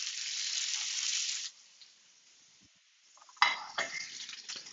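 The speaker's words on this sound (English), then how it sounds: "Sear for 45 seconds per side" Flank steak seared in a hot pan gives a loud, steady sizzle for over a second, then drops to a faint hiss before sharp clatters of the pan or utensils.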